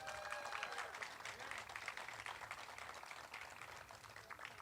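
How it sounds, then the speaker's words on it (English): An audience applauds an honoree at a community center dedication ceremony in Long Beach, steady clapping that sounds moderately distant, with crowd murmur mixed in. "let's give this incredible woman another big round of applause"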